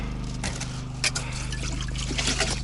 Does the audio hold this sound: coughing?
no